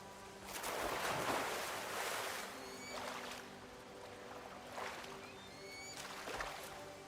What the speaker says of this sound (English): There's a waterfall there.